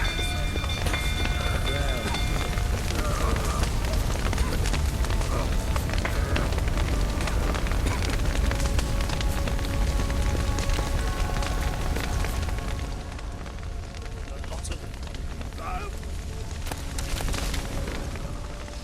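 Fire spreading and burning in The Witcher 3, a loud continuous roaring rumble that stays dense throughout and eases slightly toward the end.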